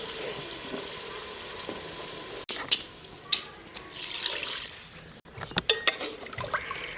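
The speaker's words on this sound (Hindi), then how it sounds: "पानी मैंने शामिल कर लिया है।" Water added to a pot of frying beef pieces for a salted beef broth, a steady hiss and sizzle with wet stirring and clanks of a utensil against the pot, close and continuous throughout.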